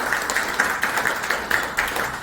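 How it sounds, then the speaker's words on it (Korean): Audience applause at a poet's book launch event, continuous moderate clapping from a gathered crowd filling a short stretch alone. "여러분 박수 한번 보내주세요."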